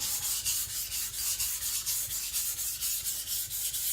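An IKEA Chinese cleaver drawn steadily across a sharpening stone, giving close, repeated gritty rasping strokes in an even back-and-forth rhythm with no talk.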